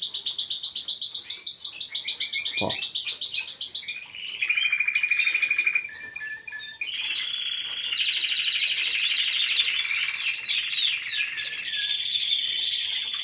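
Several small songbirds sing continuously at close range, their bright trills and chirps overlapping and alternating without pause.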